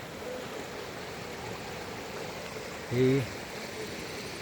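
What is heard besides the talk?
flowing stream water coming down from the fort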